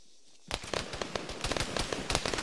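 Gunfire during MOUT urban combat training bursts in after a moment of quiet, a dense rapid volley of sharp cracks and pops that keeps going, loud and close.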